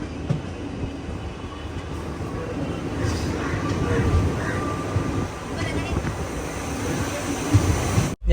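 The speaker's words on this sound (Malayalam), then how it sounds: "കൊല്ലം ജംഗ്ഷൻ റെയിൽവേ സ്റ്റേഷനിലേക്ക് ഇതാ നമ്മുടെ ട്രെയിൻ എത്തിക്കൊണ്ടിരിക്കുകയാണ്" Garib Rath Express train pulling into platform 2 at Kollam Junction station, a steady low rumble of the rolling train close by, with faint voices in the background throughout.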